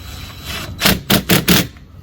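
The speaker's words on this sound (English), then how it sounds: "I'm going to put one in nice and tight close to the fitting using our 7mm ratchet" A 7mm ratchet tightening a hose clamp near a fitting on a wash stand, heard as a short burst of four quick, close clicking ratchet strokes.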